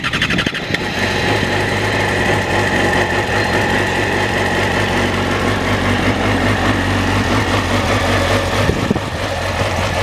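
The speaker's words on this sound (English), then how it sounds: "Not the noisiest bike, bearing a standard Yamaha exhaust" A Yamaha motorcycle with a standard exhaust idles steadily at a moderate, even level for ten seconds, with no talking over it.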